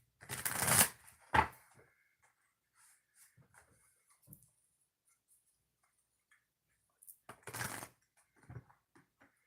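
Oracle cards being shuffled by hand in two loud riffling bursts, with faint taps and small card sounds in the quiet between them and no talking.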